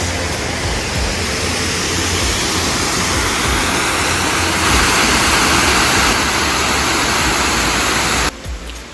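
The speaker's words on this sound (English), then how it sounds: "Soco Falls is a stunning 50 feet double cascade waterfall" Soco Falls, a 50-foot double cascade waterfall between Cherokee and Maggie Valley, North Carolina, roars as a steady, loud broadband wash of falling water, heard close and unbroken until it drops off at the very end.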